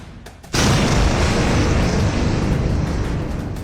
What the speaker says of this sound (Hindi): नूर खान बेस पर धमाका,